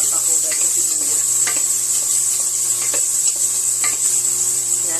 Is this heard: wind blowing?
no